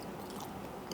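Sushi being chewed right up at the mouth, a dense continuous stream of wet mastication and soft crunchy bites throughout the second, loud and close with no talking.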